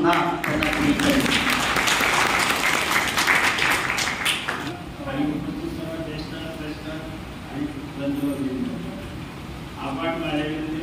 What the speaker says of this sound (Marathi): सर्वजण एकदा टाळ्या वाजवून पुन्हा त्यांना शुभेच्छा देऊ